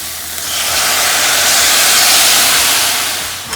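Rice goes into a hot pan of frying soya chunks and vegetables for biryani and is mixed, and a loud hissing sizzle swells up, holds steady, then eases off, with no talk.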